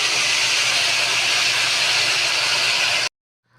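Water is poured into a hot pan of spiced fish head and potatoes, setting off a loud, steady steam hiss that lasts about three seconds before cutting off abruptly into near silence.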